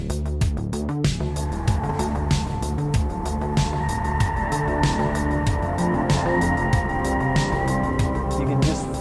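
A BMW X5 or Range Rover Sport SUV driven hard around a race track, engine droning steadily and loudly from inside the cabin, with small bumps and a tonal whine rising partway through, no talk.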